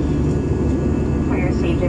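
Steady, loud jet roar from a Philippine Airlines airliner, flight PR 2145 bound for Iloilo, on its takeoff run. The broad rumble holds continuously throughout, with no clear rise or fade.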